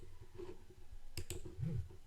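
A computer mouse clicks twice in quick succession, crisp and close, against a quiet room background.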